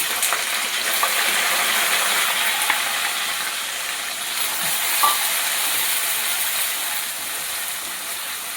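Ground onion paste frying and being stirred in a pan for a quick chicken dish, a bright steady sizzle with scattered scraping ticks from the spoon, close and continuous.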